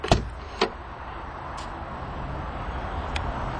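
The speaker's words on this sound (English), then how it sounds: "Now to open your trunk, you actually have a little bit of a unique way." The trunk of a 2012 Dodge Charger R/T opens by a button on the third brake light, giving a couple of close clunks and a latch release at the start, then a quiet outdoor hum.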